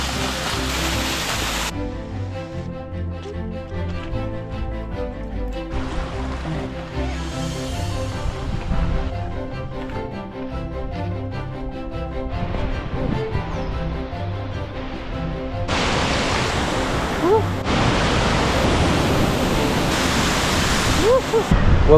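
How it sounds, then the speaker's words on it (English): Wapama Falls in Yosemite roars in late spring, a loud, continuous broadband rush of falling water heard up close, with gusts of heavier spray noise toward the end. "Wapama Falls here in May."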